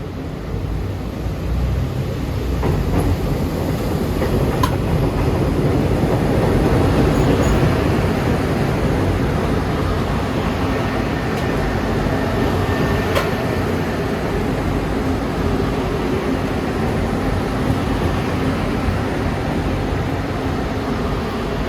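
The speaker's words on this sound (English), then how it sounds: "Here comes another Orange Line train from Midway Airport." A CTA Orange Line elevated train coming from Midway Airport rumbles past on the L, a loud sustained roar of wheels and motors that swells around the middle and holds steady, with faint metallic squeals and no talk.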